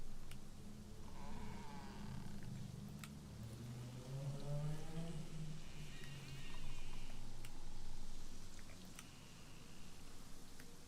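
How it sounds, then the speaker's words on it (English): Chicken clucking in the survival video game DayZ, a series of soft, repeated clucks over a steady background hum, moderately near and fairly quiet. "oh, I can hear a chicken."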